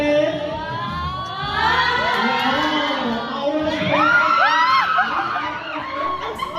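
Excited fans at a surprise event for actress Francine Diaz scream, cheer and whoop together, a dense, loud crowd roar with high shrieks rising and swelling throughout.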